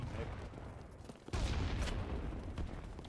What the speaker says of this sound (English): they're firing RPGs at us from across the way